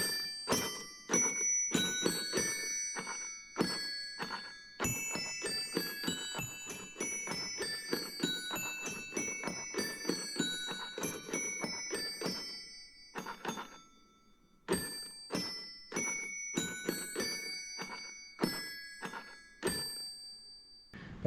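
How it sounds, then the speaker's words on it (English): Disney character bell ornaments whose little hammers strike bells in sequence to play Christmas tunes: bright, ringing metallic chimes in a steady melodic pattern with brief pauses, clear and close, no voices. "each one of the Disney characters has a little hammer there, and they swing and hit the bell, and they actually play in sequence to play Christmas tunes"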